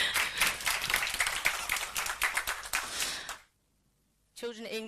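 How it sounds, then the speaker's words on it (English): Audience applause at a morning forum in Sweden, a dense burst of clapping filling the room for about three and a half seconds, then breaking off into silence before a voice begins speaking. "a big applause"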